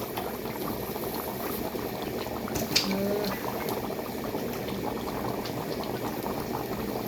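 Mutton for biryani boils and sizzles in a pot as its water cooks off, a dense continuous bubbling close up, with a brief clink partway through.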